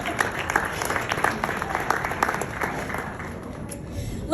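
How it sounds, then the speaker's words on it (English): Audience applause at a political reception for an MP, dense clapping filling the room steadily and continuously, with crowd noise and some voices mixed under it. "Please, a round of applause."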